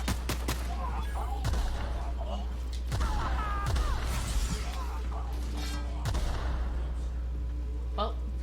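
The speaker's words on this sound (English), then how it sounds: "they have a grenade launcher or something." Grenade launcher blasts and gunfire in the video game The Outer Worlds, several dull booming thumps and scattered shots in a busy battle mix while a voice talks over it.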